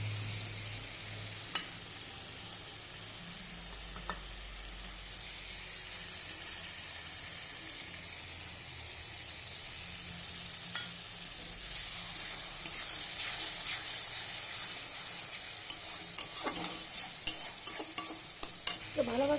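Ground poppy seed paste fries in oil in a pan, with a constant sizzling hiss and repeated stirring scrapes that grow into sharper, louder clatters toward the end.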